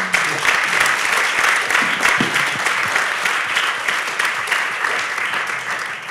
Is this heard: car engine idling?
no